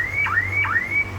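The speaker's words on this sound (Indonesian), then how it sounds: "ini klaksonnya seperti ini" Horn of a 2012 Isuzu Panther Grand Touring sounds as a loud, close electronic warble, with repeated rising and falling sweeps over a steady low engine hum.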